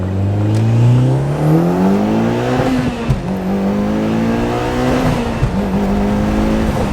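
A Mitsubishi Evo X fitted with a Torque Solutions shifter pulls hard through the gears, its engine note climbing loudly and close, then dropping at each shift before rising again.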